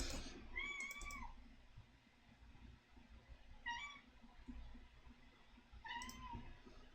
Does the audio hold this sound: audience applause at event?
no